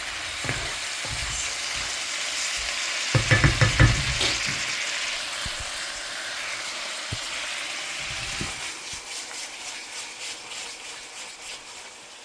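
Onions sizzle and fry in a pan for a curry, a steady crackling hiss under occasional scraping stirs and a brief clatter of a utensil against the pan.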